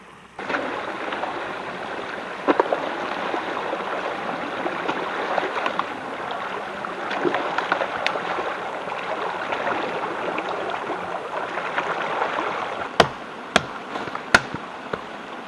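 Stream water flowing steadily below a small beaver dam, a continuous close rushing and gurgling wash with a few sharp clicks near the end.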